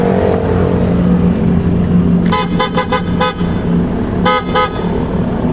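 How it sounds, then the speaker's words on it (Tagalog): A PIAA Oto-style car horn on a Nissan Navara honks in a quick string of short toots, then two more after a pause, loud and close over a steady engine rumble. "So sound check natin yung Pia Auto Style Horn."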